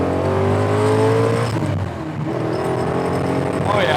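An LS V8-swapped Nissan 240sx with a CD009 350Z gearbox pulls hard through a no-lift shift from third to fourth, a loud droning engine note that dips briefly and climbs again, heard from inside the car.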